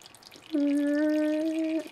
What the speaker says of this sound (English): Fill up this cup with a little water and you're ready to go.